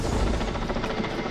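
Helicopter flying over a rugged mountain drilling site at a titanium exploration mine in Taebaek, Gangwon Province, a loud, close, continuous rotor thrum with rhythmic beating and engine rumble.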